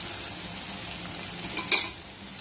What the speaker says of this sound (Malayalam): ബീഫ് മീഡിയം ഫ്ലെയിമിലിട്ട് ആ ബീഫിലെ വെള്ളമൊക്കെ ഒന്ന് വറ്റുന്ന വരെ നമുക്ക് ഫ്രൈ ചെയ്യാം